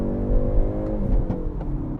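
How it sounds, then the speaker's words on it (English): A 2020 Hyundai Veloster N engine revs close up in N custom mode, with a steady low growl and rising harmonic tone broken by sharp exhaust crackles and pops, with no voices. "You're getting all of those crackles when you hit the red line"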